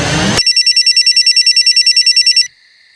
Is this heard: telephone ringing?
yes